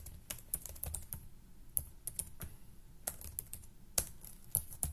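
Keystrokes on a computer keyboard while entering a Fortran command, a steady run of close, crisp clicks with irregular bursts and short pauses, no voices.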